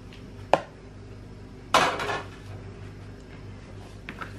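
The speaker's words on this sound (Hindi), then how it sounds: "अब ये मकरूनी डाल देंगे।" Macaroni tipped into a bowl of Russian salad, a sharp clatter near the half-second mark and then a longer rattling spill of pasta against the bowl, close and fairly loud, with quiet kitchen background between.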